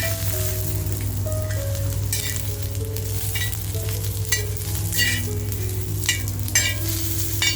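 Ginger and cumin seeds hit hot oil, producing a continuous close sizzle with bursts of sharper crackling spatter, while soft background music plays steadily underneath.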